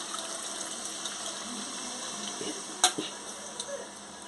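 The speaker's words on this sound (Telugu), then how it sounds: "మెత్తగా పిసికిన తర్వాత ఈ రసాన్ని అయితే పోసుకుందాం." Tamarind juice is poured into a pot of bottle gourd curry. A soft, steady liquid pour and trickle is heard up close, with a few light splashes and clinks near the end.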